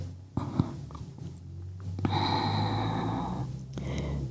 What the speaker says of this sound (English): Just breathing, inhaling and exhaling.